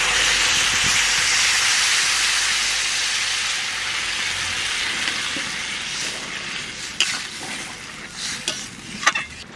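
Water poured into a hot pan of potato and pointed gourd curry sends up a loud, broad steaming hiss that gradually fades, followed by a few sharp stirring scrapes.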